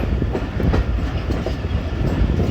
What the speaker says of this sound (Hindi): और झेलम पहुंच रही है ट्रेन।